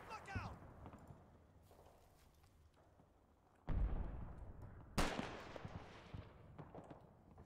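Gunfire in Combat Mission Battle for Normandy, a World War II wargame: a few sharp, fairly distant reports, two heavier blasts standing out, over soft ambient rumble with occasional conversation.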